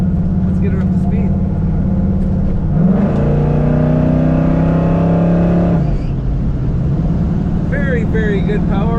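A 1969 Chevrolet Camaro Z28 with an automatic transmission accelerates hard, its loud close engine note climbing and holding steady before easing off, with a brief voice near the end.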